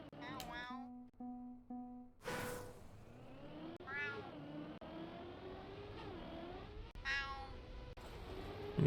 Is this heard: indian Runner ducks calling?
no